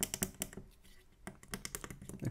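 Commodore 64 keyboard keys pressed in a handheld build, a quick run of close, crisp clicks in two bursts separated by a short pause, with no talking.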